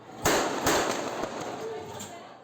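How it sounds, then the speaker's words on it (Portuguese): Sharp gunshots ring out at an outdoor election campaign event in Paraisópolis, a large community in São Paulo: one loud report, then several more in a quick irregular burst over about a second, leaving a noisy crowd murmur behind them. "gravou o momento em que os tiros são disparados"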